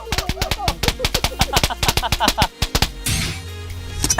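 An electric Diwali firecracker gadget popping in a rapid, uneven stream of sharp cracks like small fireworks for about three seconds, then a steady hiss and a few scattered pops, loud and close.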